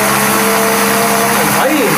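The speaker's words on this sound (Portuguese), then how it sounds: "Coloca dentro do liquidificador, vai novamente no pulsar e ó." A household blender pulses a pineapple homemade ice cream mixture with a steady whirring motor hum, loud and close, sounding as one continuous burst.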